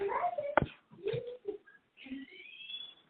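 Dogs whimper and whine softly indoors as they come running in, with a few faint yelps and a thin high whine near the end, quiet and close.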